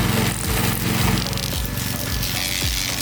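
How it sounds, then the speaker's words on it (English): A Koham off-road remote control lawn mower cuts through small trees with a loud, steady engine drone and recurring short surges as the blades bite into wood. "the Koham Off-Road Remote Control Lawn Mower can easily cut through them"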